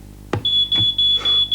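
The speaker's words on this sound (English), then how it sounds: "as soon as this thing detects smoke, it makes a really loud noise." A smoke alarm's test button sets off a loud, piercing electronic beep pattern of repeated bursts, sounding close and harsh after a brief click.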